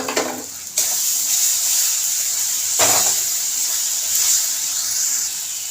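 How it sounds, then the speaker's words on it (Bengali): Masala being fried down in a pan with chickpeas makes a continuous hissing sizzle at a steady level. A few sharp stirring scrapes break through near the start and middle. "মশলাটাকে খুব ভালো করে কষিয়ে নেব"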